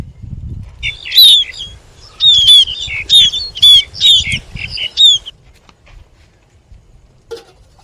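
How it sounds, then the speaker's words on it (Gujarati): Birds gathering at water bowls hung for them on a peepal tree: a run of sharp, repeated chirps and calls over about five seconds, with flapping wings and light rustling beneath, then a quiet tail with one brief call. "દિવસે અહીંયા ઘણા પક્ષીઓ આવે છે"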